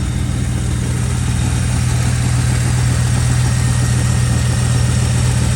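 A 1991 Chevy Camaro Z28 convertible idles close by with a loud, steady, low rumble that holds an even tone from start to finish.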